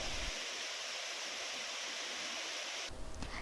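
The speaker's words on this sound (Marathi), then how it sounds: "पावसाची संततधार सुरू असल्यानं पानवल धबधबा ओसंडून वाहत आहे" Panwal waterfall near Ratnagiri in the Konkan, overflowing after continuous rain, gives a steady, dense roar of rushing water that stays loud and unbroken throughout, with no voices.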